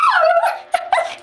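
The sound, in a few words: dog whimpering and yipping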